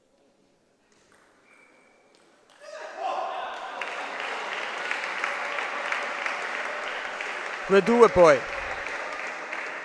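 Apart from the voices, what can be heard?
applause at table tennis match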